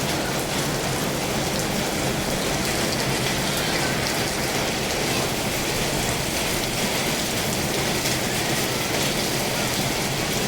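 Steady rain falls across a rural village in southern Laos, a dense, continuous hiss of drops on surfaces that stays even and fairly loud throughout, with no voices.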